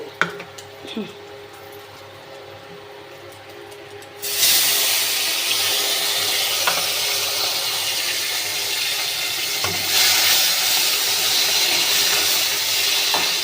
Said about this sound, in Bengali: এবার আমি এই তেলের মধ্যেই টমেটো দিয়ে দেব।